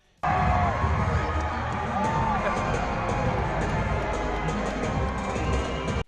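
Crowd at a 2018 WWE house show in Portland, Maine roaring and cheering for a wrestler's entrance, a dense, sustained wall of noise with whoops and shouts running throughout.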